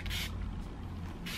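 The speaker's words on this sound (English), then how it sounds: "then I spray all of my hair again with heat protectant spray" Heat protectant hair spray hisses from a nearby can in two short bursts, one at the start and one at the very end, with quiet room tone between them.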